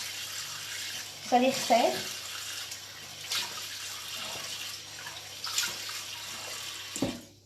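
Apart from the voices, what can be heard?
rinsing face with cool tap water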